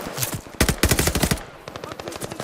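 Rapid automatic gunfire in the Call of Duty Vanguard campaign, dense bursts of sharp shots with brief pauses, loud and close, no talking.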